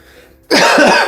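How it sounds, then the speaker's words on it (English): A single loud, harsh cough bursts out close to the microphone after a moment of quiet. "I'm still coughing"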